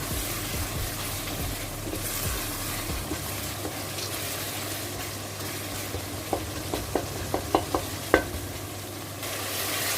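Spiced masala for aloo gobi fries and sizzles steadily in a pan. It is stirred throughout, and a run of sharp spoon taps against the pan clicks out quickly near the end. No one speaks.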